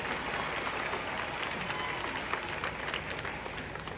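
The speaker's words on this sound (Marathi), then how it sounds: "आता एकदा जोरदार टाळ्या होत्या माझ्यासाठी." Vigorous, continuous applause from a large seated audience at a speech event, many hands clapping together in a thick, even wash of sound for several seconds.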